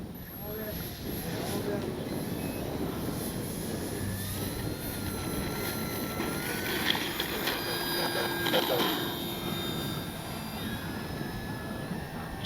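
An FMS Cessna 182 Skylane radio-controlled model plane taking off with its electric propeller, a steady buzzing drone that rises slightly as it climbs, with someone speaking over the motor noise outdoors.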